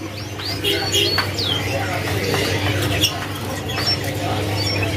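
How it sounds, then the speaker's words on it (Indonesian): A young male loper canary at a bird kiosk chirps in a string of harsh, scratchy calls over a constant low hum, with other birds twittering around it. "kenari jenis loper yang masih anakan tapi sudah terpantau ngeriwik kasar"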